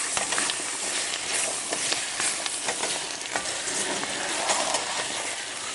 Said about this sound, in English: Our mirepoix. I'm going to start stirring this in.